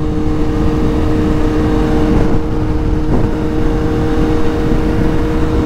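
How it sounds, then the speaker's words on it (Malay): Motorcycle engine running hard on the road to warm up, a loud, steady close-up drone with wind rush and a couple of slight pitch shifts as the revs change. "nak panaskan enjin motor lah."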